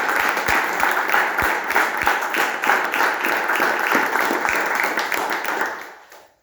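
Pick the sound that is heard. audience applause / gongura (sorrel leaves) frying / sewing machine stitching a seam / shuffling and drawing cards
audience applause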